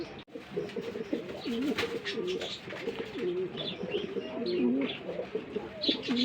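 Pigeons coo steadily in a show cage at a pigeon farm, a rolling, repeated throaty call from several birds close by, with faint chirps and background bustle throughout and no talking.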